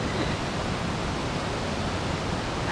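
One of two waterfalls in a canyon gives a steady, loud, broadband roar of rushing water. It is continuous and unbroken, with no voices.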